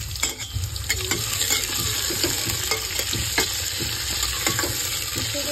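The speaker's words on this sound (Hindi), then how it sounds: "साथ साथ हमने इसमें डाल दिया है आलू और फ्लावर, इसको भी साथ में ही फ्राई करेंगे।" Potatoes and cauliflower fried with onion in a pan sizzle loudly and steadily, with repeated stirring scrapes and clicks of a spoon running through the whole stretch, no talking.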